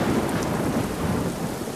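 Heavy rain pours down steadily in a cartoon thunderstorm, with a dense constant hiss and a low rumble running underneath throughout.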